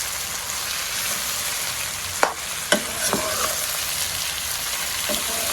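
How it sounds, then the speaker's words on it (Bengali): Chalta pickle being stirred in a pan with turmeric, chilli powder and oil, a close continuous sizzle with a few scraping clicks of the spoon against the pan. "এখন সবকিছু ভালোভাবে মিশিয়ে নিন।"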